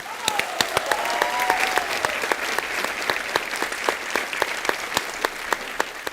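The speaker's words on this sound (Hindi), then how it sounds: "जोरदार तालियां बजाएं।" A studio audience at a comedy show gives strong applause for the Ramayan cast guests, continuous clapping with sharp individual claps standing out and a brief vocal sound early on.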